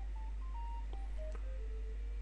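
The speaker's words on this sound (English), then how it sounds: "Oh, that sounds like my phone going." A phone sounds off as a string of electronic tones stepping through different pitches, steady and moderately loud over a constant low hum.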